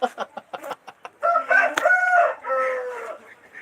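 A rooster clucks in a quick run of short, close notes, then breaks into a loud, sustained crow, followed by a softer trailing call; no talking over it.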